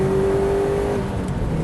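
A Subaru Impreza WRX STI pulls hard in 4th gear from about 3,000 rpm, its engine a loud, steady droning roar with a sustained tone that shifts slightly as it accelerates on the road.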